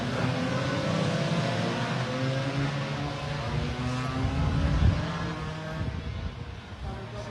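Racing scooters at Pembrey circuit move off the grid for a Super Scooters warm-up lap, a dense, loud blend of revving two-stroke engines droning steadily throughout, with a brief louder surge near the middle.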